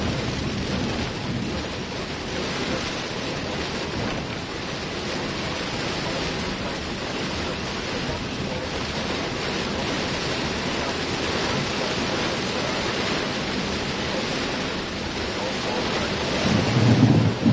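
Heavy rain roars steadily on a car during a severe thunderstorm in Missouri, a dense, unbroken wash of noise that swells slightly near the end.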